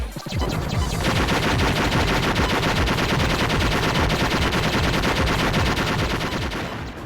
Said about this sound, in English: your typical rapid-fire gun